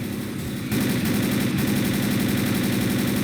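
Rapid automatic gunfire in the zombie shooter Left 4 Dead, a dense stream of shots that kicks in abruptly after a short lull and hammers on steadily over a low rumbling game background.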